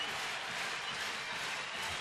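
A baseball stadium crowd at a Cleveland Indians game claps steadily, a dense, even patter of applause heard from a distance, with no standout voices.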